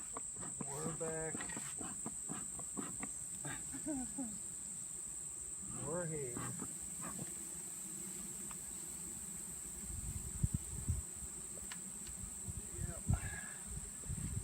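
Honey bees hum around an open beehive in a steady low drone, with people talking over the buzzing.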